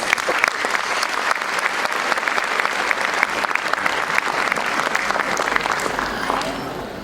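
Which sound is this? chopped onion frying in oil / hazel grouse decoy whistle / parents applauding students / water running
parents applauding students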